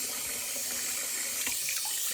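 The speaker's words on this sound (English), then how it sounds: "don't be afraid to let your water run" A bathroom tap runs steadily during cleaning, a constant bright hiss of flowing water with no pauses, fairly close and alone.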